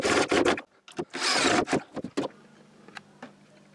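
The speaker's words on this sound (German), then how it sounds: "die bohre ich einfach tiefer und kann jetzt schön hier auf der Platte von unten die Schrauben durchdrehen" A power drill or screwdriver drives screws up through a wooden board from underneath, in several short bursts of whirring and grinding, close and loud, followed by a quiet low hum.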